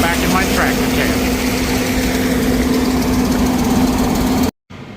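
A tractor engine drones steadily at a close, constant idle-like rumble during corn shelling, heard from the cab, then cuts out briefly near the end.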